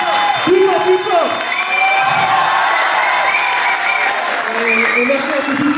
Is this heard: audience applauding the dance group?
yes